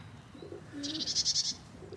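A broad pigeon kept by a fancier coos in a short, pulsing phrase of several quick notes close by, with no talking.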